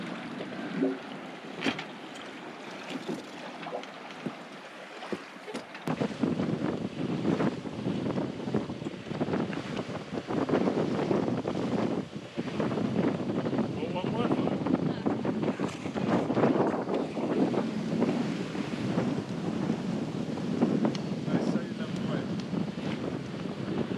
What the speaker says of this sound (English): Really just sailing with a small breeze.